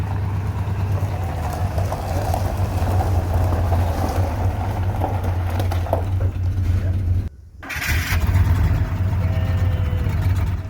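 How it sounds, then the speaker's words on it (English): A repaired RV engine with a new starter and flywheel work, running at a steady idle as a continuous low rumble. The engine drops out briefly near the end, then resumes under wind buffeting on the microphone. "Hear that engine running again finally, right?"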